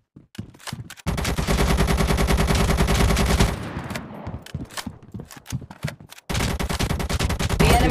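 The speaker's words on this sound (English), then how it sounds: "An enemy player's firing on you." An enemy player shooting in ZOZ: Final Hour: loud sustained automatic bursts with rapid, even rhythm, one long stretch of fire, a pause with scattered shots, then another burst, no talk.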